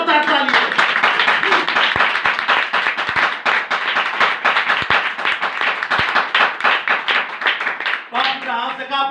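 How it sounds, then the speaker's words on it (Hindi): A church congregation claps loudly in a dense, sustained burst of many hands, close and steady for several seconds before a voice speaks at the end. "एक बार जोरदार ताली।"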